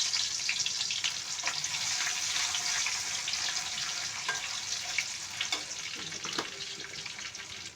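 Papaya and potato bhaji fry in a pan, a continuous quiet sizzle with occasional stirring clinks and scrapes, steady throughout with no talking.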